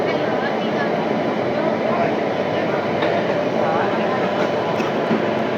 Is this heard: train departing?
yes